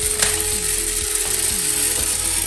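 Vintage toy robots grind and ratchet with a loud, continuous mechanical clatter of gears and rapid clicking, running steadily from start to finish.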